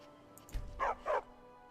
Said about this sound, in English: What's up with that dog?